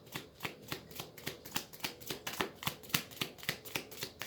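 Tarot cards being shuffled for a past life reading, a steady run of about a dozen crisp riffling bursts in even rhythm, close and quiet, with no talking.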